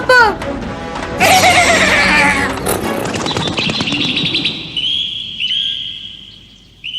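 A cartoon wooden horse in a Tamil-dubbed Doraemon episode gives a loud, wavering whinny at the start. Busy music and sound effects follow and carry on to the end.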